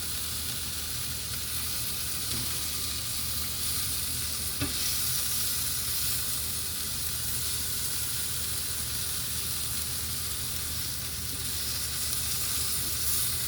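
Leftover steak searing and browning in a hot pan, a continuous close, even hiss and sizzle lasting the whole stretch, with one faint tap of a spatula and no speech.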